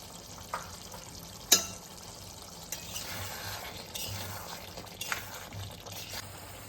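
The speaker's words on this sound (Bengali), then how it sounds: "লাল লাল করে ভেজে রাখা আলুটাকে এর মধ্যে ছেড়ে দিলাম।" Potatoes fried red are dropped into hot masala gravy for alur dom, which sizzles and bubbles close by after a sharp splash, with stirring scrapes throughout.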